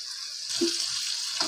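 Water pours into a cooking pot of spiced aloo gosht with red chili, garam masala, salt and cumin, a short soft splashing rush close by.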